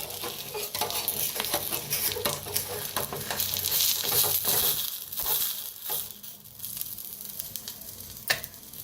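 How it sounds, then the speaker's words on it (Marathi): Eggs fry in a hot pan with a loud, continuous close sizzle and crackle, overlaid with scraping strokes of a spatula and a sharp clink near the end. "अंडी बी छान अशी फ्राय व्हायला लागले ते आपली"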